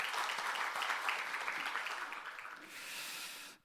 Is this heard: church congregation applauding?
yes